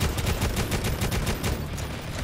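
Rapid gunfire from Necromunda: Hired Gun, a steady burst of repeated shots filling the whole stretch at a fairly loud, even level with no talking over it.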